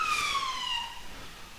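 A fire truck siren wails outside a house, its steady tone sliding slowly downward as it passes, fairly loud and continuous, with no voices over it.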